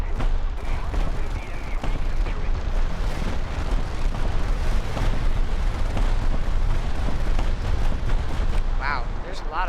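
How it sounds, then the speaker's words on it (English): Bombs explode in the air-battle video game War Thunder, a dense, loud barrage of booms and crackling blasts rolling continuously, with someone talking briefly near the end. "Wow, there's a lot of bombs."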